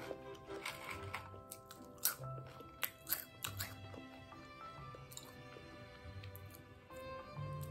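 Roast chicken flavoured French potato chips are crunched and chewed close up, with irregular crisp crackles and bites over a faint background hum, fairly quiet and without talk.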